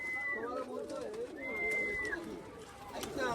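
A pigeon coos in soft, low repeated calls close by, with a brief higher whistling tone twice and faint background murmur.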